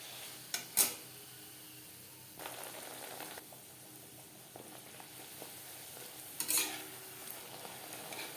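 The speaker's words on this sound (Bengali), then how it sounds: "নানপুরি আমি ভেজে নিয়েছি" Naan puri dough frying in a kadai of hot oil, with a steady soft sizzle, occasional stirring scrapes and a couple of sharp metal clinks against the pan, fairly quiet and close with no talking.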